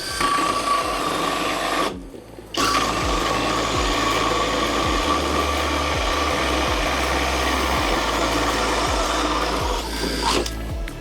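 A Kress KUA71 cordless drill bores into wood with a 76 mm hole saw on second speed, a loud close whine with rhythmic grinding pulses, cutting out briefly for a moment before resuming.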